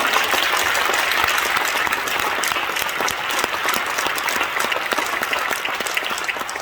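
A church congregation applauds vigorously at a ceremony installing elders and deacons, a dense, steady roar of many hands clapping that continues loud and unbroken throughout.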